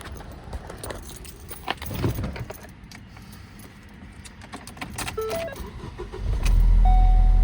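Keys jingle and clink near a 2012-2018 Ford Focus before the engine cranks and catches, settling into a steady loud idle for the last second, recorded up close with no speech.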